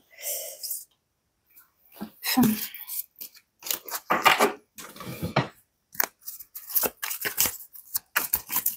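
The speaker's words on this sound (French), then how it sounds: "je vais remélanger" Tarot cards being reshuffled by hand during a reading, giving a run of dry papery riffles and slaps in short bursts separated by brief pauses, close and moderately loud.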